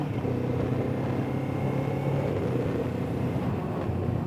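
A 2024 Kawasaki Ninja 7 Hybrid motorcycle rides a short lap, giving a steady, continuous low engine rumble with road noise that holds at an even level throughout.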